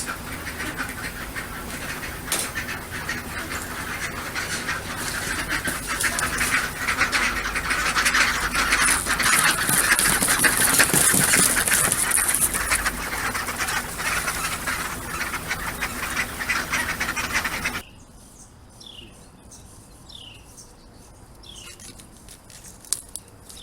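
Ducks on a farm quack in a loud, busy cluster for most of the stretch, then the scene drops to a quieter outdoor background with a few faint calls.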